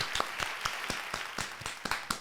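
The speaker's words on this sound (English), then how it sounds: "Give it a round of applause." A short burst of clapping, a handful of sharp separate claps in an irregular rhythm, faint and close.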